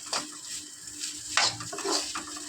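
Egg fried rice being stirred in a pan, giving soft scraping and clinking strokes with a faint sizzle underneath, two or three louder stirs standing out against a quiet kitchen background.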